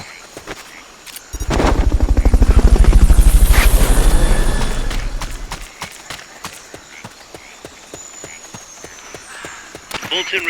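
Helicopter in the video game Metal Gear Solid Peace Walker, a loud rotor chop rising, holding for a few seconds and fading, followed by faint ticking under quiet background sounds.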